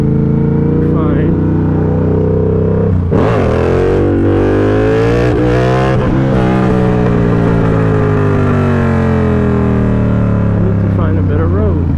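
A motorcycle engine runs loud and close while wheelies are practiced on a road, revving up sharply in the middle with rising and falling pitch, under constant wind buffeting.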